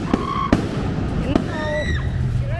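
Fireworks go off in a city in El Salvador, a few sharp bangs and whistling rockets rising through the noise, while people talk nearby.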